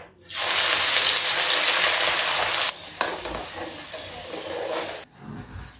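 Ginger-garlic paste sizzles loudly as it hits hot oil with cumin and asafoetida for a pav bhaji tadka, a steady close hiss that drops briefly partway through, then fades near the end with some stirring scrapes.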